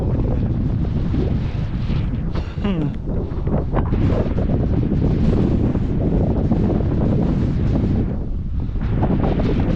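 Strong wind buffets and roars steadily across the microphone during a rabbit hunt among juniper scrub, with gusts swelling and easing throughout.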